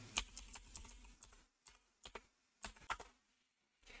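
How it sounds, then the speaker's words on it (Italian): Quiet, close clicks of a computer keyboard as text is entered into a browser address bar, several quick bursts of keystrokes separated by short pauses, with no voices. "digitiamo per l'appunto Proton VPN"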